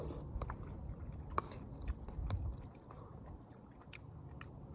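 Soft, close chewing of noodles with melted cheese cooked over a camp stove outdoors, quiet wet crunches and squishy bites in an irregular rhythm against faint background noise.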